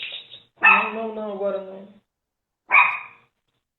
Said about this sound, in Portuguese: Cachorro chato.